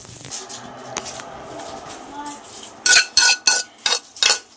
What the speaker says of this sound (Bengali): এখন এটা একটা প্লেটের মধ্যে আমি ঢেলে নেব।